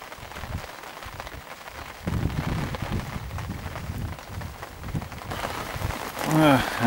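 Rain drums steadily on the outside of a fishing day shelter, a dense patter that grows heavier midway and builds again toward the end, with a brief tonal sound at the close.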